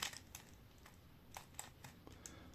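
A MsCUBE Ms3L speed cube being turned by hand, giving quick, light, clacky clicks in irregular bursts, close and quiet.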